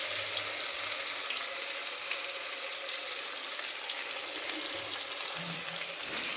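A paste of onion, garlic, ginger and green chili fries with potatoes in a pan for an egg kosha dish, giving a soft, continuous sizzle with faint clinks, heard alone and fairly quiet.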